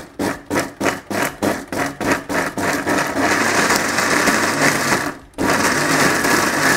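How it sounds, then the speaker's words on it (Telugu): A kitchen mixer grinder turns cooled onions into paste for a fish fry, first in a series of short rhythmic pulses, then running loud and continuous, briefly stopping and restarting. "ఒకసారి మిక్సీ పట్టేసుకుందాం."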